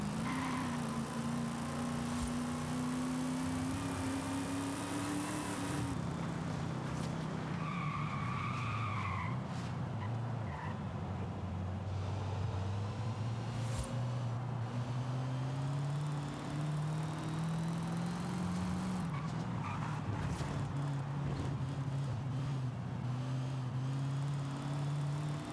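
Forza Horizon 5 car driving hard, its engine droning and shifting pitch continuously throughout, with tire skidding and squeal mixed in at a steady, loud level.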